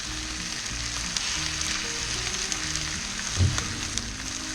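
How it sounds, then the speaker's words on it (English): Eggs fry on a Weber Q gas grill griddle with a steady, close crackling sizzle and a small pop partway through. No one speaks. "So here I'm cracking open this first egg on my grill cart and cracking that directly over the griddle."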